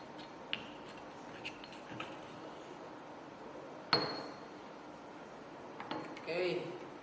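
Hot water mixture for homemade organic hydroponic fertilizer stirred in a glass container, heard as a few sparse glassy clinks, one sharper knock midway, over a quiet background hum.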